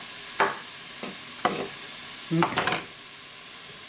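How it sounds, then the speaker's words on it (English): Chicken tortilla soup ingredients sauté in a stock pot, heard as a low sizzle under several separate scraping stirs of a utensil against the pot; a voice speaks briefly. "It sounds like it might be cooking too fast."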